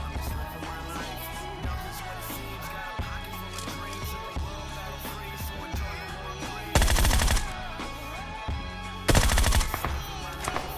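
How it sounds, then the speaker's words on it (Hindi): Bursts of rapid machine-gun fire from an M249 in the battle royale game BGMI, with two especially loud, dense volleys standing out over continuous game ambience and music. "यहाँ पर देखो कोई M249 टैप टैप पे चला रहा"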